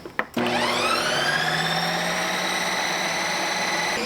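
A home ice cream machine spinning a high-protein ice cream starts up after a few clicks, then runs with a loud, steady, jet-like whine of whirring blades.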